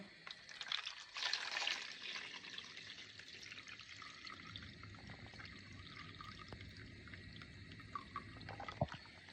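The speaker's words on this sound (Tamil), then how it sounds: "கடலை ஊற விட்டேன்னா இந்த தண்ணியை வடிச்சிடுங்க" Water drained from soaked chickpeas pours and trickles steadily for several seconds, with faint drips and clinks near the end; no voices.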